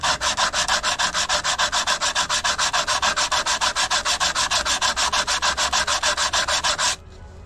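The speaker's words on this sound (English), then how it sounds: "I just get an old sanding head here." Steady, rapid back-and-forth rasping of an old sanding head against the edge of a live-edge matai wood bowl, loud and close, continuing rhythmically for about seven seconds before stopping abruptly.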